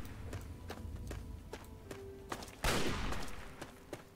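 Gunfire in Fallout 3, a series of sharp shots at irregular intervals over low background rumble, followed by one louder, broader blast near the middle, fairly distant and quiet overall.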